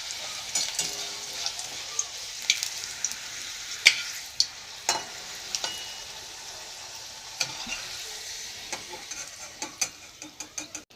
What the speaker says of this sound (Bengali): এইভাবে আমি এক এক করে সব পাঁপড়গুলো ভেজে নেব।